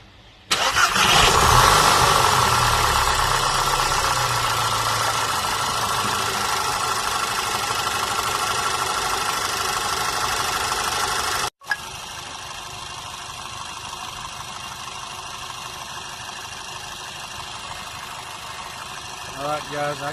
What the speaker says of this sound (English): So I'm going to just start the car.